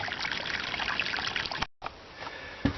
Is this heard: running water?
yes